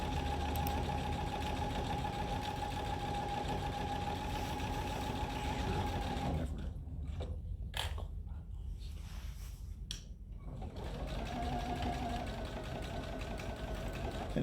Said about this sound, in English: So do you see how I just sewed a line?